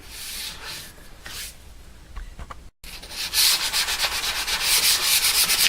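Sandpaper rubbed over a wooden electric guitar body during a custom build, working through progressively finer grits; rapid back-and-forth scratchy strokes, close and loud, growing denser after a brief pause.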